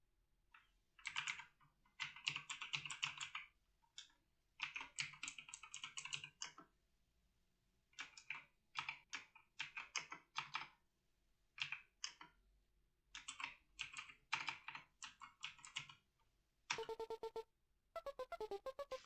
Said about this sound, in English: Don't judge my typing.